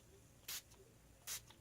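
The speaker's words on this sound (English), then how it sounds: "So let me spray that in here really quick." Two short hissing bursts of Dylusions spray paint onto an art journal page, close and brief, separated by a pause of under a second.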